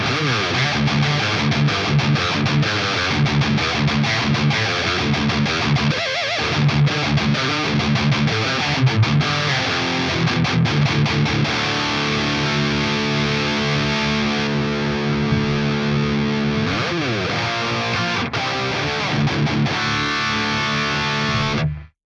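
A heavily distorted electric guitar through the Neural Amp Modeler amp-simulator plugin, tightened with a Dr. Drive pedal, plays dense riffs and sustained chords, loud and saturated throughout, ending with ringing held notes that cut off abruptly.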